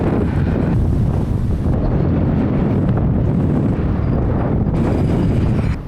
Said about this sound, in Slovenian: piha pa kakor norcih